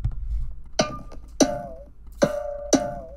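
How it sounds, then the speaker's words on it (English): Four sharp, bright metallic hits with ringing tails, evenly spaced, used as a game sound effect for a fish blowing a hook in a Unity game, heard alone and fairly quiet. "I want to add a sound effect when the fish blows the hook."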